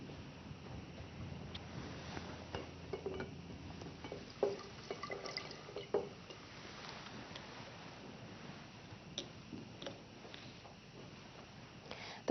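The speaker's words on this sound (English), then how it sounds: "simultaneously add 25 centimetres cubed of 75 vol hydrogen peroxide to" Twenty-five cubic centimetres of 75-volume hydrogen peroxide poured at the same moment into several glass cylinders, giving faint, close liquid trickles with scattered small drips and light glassy clicks over a quiet background.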